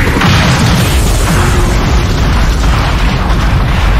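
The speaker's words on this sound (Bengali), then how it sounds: "নিমেষে ঘটল বিস্ফোরণ" A huge explosion in a dramatized story, as a spinning flying saucer slams into a helicopter over a forest: a loud, sustained rumbling roar with deep booming low end that continues unbroken for about four seconds.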